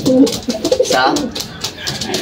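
Soft, low cooing from a pigeon or dove, repeated a few times close by, with people speaking over it.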